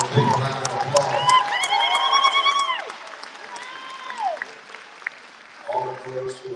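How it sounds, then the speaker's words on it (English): Applause from an audience at the opening of a purpose-built film and TV production studio in New Jersey, a steady wash of clapping with voices and whoops over it, fading after a few seconds and then rising again briefly. "give yourself a big round of applause"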